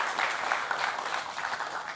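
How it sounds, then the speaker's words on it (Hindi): A studio audience claps steadily for Jigna on a television talk show, a dense, even wash of applause with no voices. "तालियां जिग्ना जी के लिए।"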